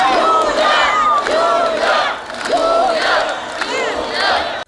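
A rally crowd in Ukraine erupts in cheering and chanting ovation for Batkivshchyna leader Yulia Tymoshenko taking the stage, loud, rhythmic waves of many voices shouting in unison, rising and falling every second or so.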